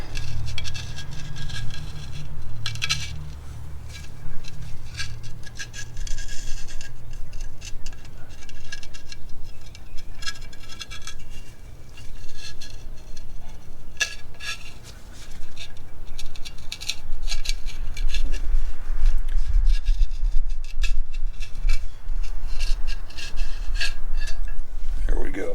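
An old gasket being scraped off a vehicle's differential cover, giving close, irregular rasping and scraping strokes over a low rumbling background hum.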